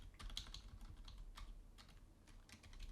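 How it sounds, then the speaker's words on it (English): Computer keyboard typing as a web address is entered, a scattering of light, quiet clicks at an uneven pace, heard faintly with no talking. "So I'm going to type in here, tax"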